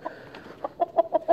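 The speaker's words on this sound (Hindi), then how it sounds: "ये देसी मुर्गे हैं, ये चेक कर सकते हैं आप।" Desi rooster clucking at close range, a run of short, clipped clucks that grow louder and more regular toward the end, with no voices.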